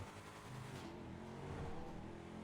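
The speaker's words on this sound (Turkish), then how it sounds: "Araba bayağı hızlı gidiyor." Coil Brawler rally car in GTA 5 driving fast off-road, a steady engine drone with a rising pitch, moderately loud and continuous without talk.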